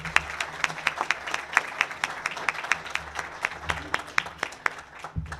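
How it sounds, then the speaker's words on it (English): A small group at a meeting claps steadily, individual hand claps distinct and evenly spaced, moderately close, with a faint murmur underneath. "Let's give a round of applause."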